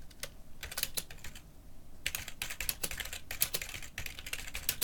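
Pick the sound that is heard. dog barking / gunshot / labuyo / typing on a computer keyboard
typing on a computer keyboard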